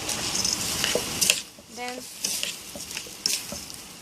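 A spoon stirs rice in a pot of boiling water, giving soft, irregular scraping and bubbling bursts, close up. A brief voice sound comes in midway.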